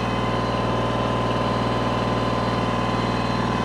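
A Kubota L2501 tractor engine runs on a dyno at light 10% load, a loud, steady, even drone with a low rumbling pulse and no change throughout.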